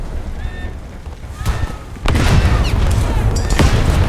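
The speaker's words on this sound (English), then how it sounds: "Das feindliche Schiff wurde torpediert." An enemy ship torpedoed in a naval battle game with the German battleship Scharnhorst: a muffled deep boom, then a sudden heavy rumbling blast that stays loud and roiling to the end, with faint radio-like game chatter early on.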